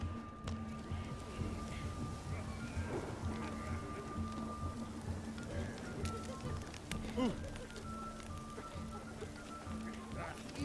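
Steady rain pours throughout in The Witcher 3: Hearts of Stone, a dense hiss with occasional low rumbles, while a voice and faint synthetic tones drift in the background.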